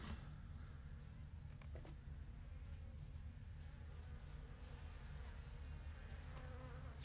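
Steady insect buzzing of bees in the online game Lord of the Rings Online, a continuous droning hum with no pauses, moderately quiet and heard alone without talk.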